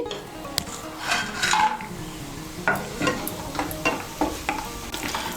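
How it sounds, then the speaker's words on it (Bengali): Sun-dried black gram lentil dumplings frying in hot oil, bubbling and sizzling up close while a utensil scrapes and clatters against the pan in uneven strokes. No voices. "তেলটা গরম হয়ে গিয়েছে, এর মধ্যে আমি বড়িগুলো ভেজে নিচ্ছি।"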